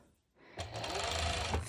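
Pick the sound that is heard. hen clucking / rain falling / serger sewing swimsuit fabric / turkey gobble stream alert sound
serger sewing swimsuit fabric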